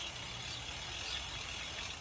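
A bicycle chain and freewheel are backpedalled during cleaning, giving a brief, continuous fine ratcheting click with a steady metallic buzz, close and alone.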